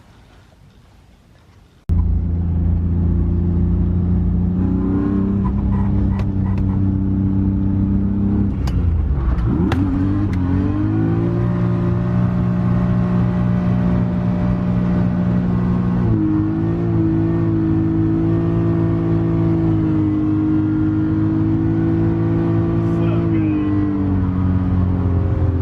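A modified car engine, its clutch and water pump recently reworked, starts and then revs hard and sits bouncing off the rev limiter. The loud, close, droning blats waver in pitch for over twenty seconds without speech.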